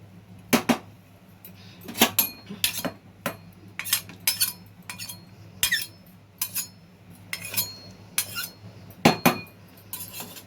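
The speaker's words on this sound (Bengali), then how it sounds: "এবার এটাকে একটু ভালো করে নেড়ে দিলাম।" A spoon stirring khichuri in a metal pot, a series of separate scraping and clinking strokes against the pot over a low steady hum, the strokes spaced irregularly and fairly close.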